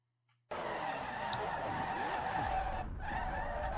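A race car loses grip with wheel spin and slides off into the grass during All Star Race qualifying, a loud sustained tire squeal and skidding roar that starts abruptly and continues with a brief dip midway.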